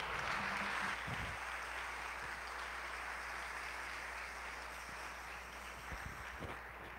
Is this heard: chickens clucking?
no